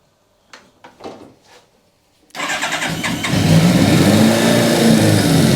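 An engine cranks a couple of times with the choke on, then catches and starts. It settles into a loud, steady running note close by.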